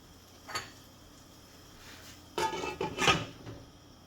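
A lid clatters onto a pot of simmering vegan Thai green curry with tofu, a faint tap first and then a few close knocks and rattles as it settles, with no talking.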